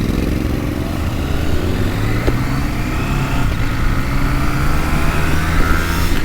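A 2024 KTM 790 Adventure rally-version motorcycle cruising steadily on an Alpine road, with a loud continuous engine drone mixed with heavy wind rush and no talking.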